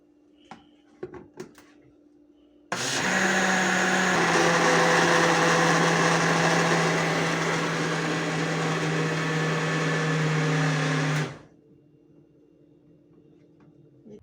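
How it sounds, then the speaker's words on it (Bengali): An electric blender whirs loudly and steadily for about nine seconds while blending borhani, a spiced yogurt drink with tomato sauce, starting abruptly after a few faint clicks and then cutting off sharply. "এবার আমি এটা ব্লেন্ড করে নেবো"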